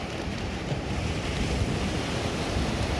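Ocean waves wash onto a beach in a steady, moderately loud surf wash mixed with some wind, with no voices heard.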